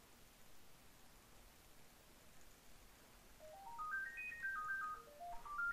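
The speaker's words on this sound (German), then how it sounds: "Da klingelt mein Telefon." A phone ringtone plays a rising and falling electronic melody, quiet at first and then clearer over a soft steady hiss, with no talking.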